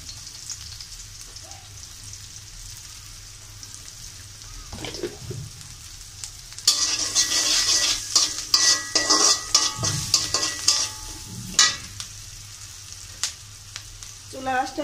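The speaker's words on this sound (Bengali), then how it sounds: "চুলাটা হাইতে রেখেই আমি 5 থেকে 7 মিনিটের মতো ভেজে নিব।" Food frying hard in a pan on high heat with turmeric and salt, a loud sizzle rising from about 7 seconds with stirring scrapes and clatter, after a quieter start.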